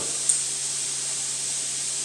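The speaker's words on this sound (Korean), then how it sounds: "삼겹살을 사서 지글지글지글지글 그, 굽니다" Fresh pork belly sizzling on a grill, a steady, bright, even hiss with one small pop near the start, close and continuous with no talk.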